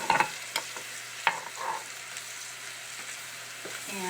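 Soy sauce and rice wine vinegar sizzle steadily in a hot pan on high heat, a constant frying hiss with a few sharp stirring clatters, close and moderately loud with no talking.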